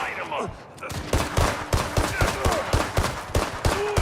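Rapid bursts of gunfire crack out in the video game Gangstar Mirage City, a fast rhythmic string of loud shots over game sounds, with a player talking.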